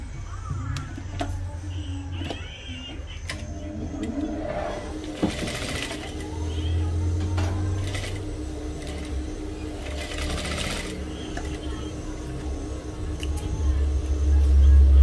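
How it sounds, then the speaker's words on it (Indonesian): A sewing machine runs steadily, stitching a straight seam on a daster house dress, with a few short bursts and pauses across the run and a low motor hum beneath. "Kita tinggal jahit straight ke sini."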